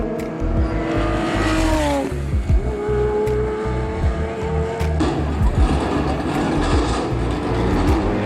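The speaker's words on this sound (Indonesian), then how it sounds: "Raungan mesin Diablo GTR adalah simfoni yang membuat setiap pecinta otomotif terbius." A Lamborghini Diablo GTR race car engine roars loud and close, its revving pitch climbing and then dropping sharply as it shifts or passes, with rough mechanical bursts under the steady engine drone.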